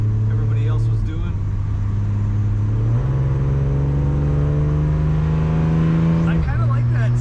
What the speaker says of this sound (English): I kind of like that straight hot rod sound out of that slant 6.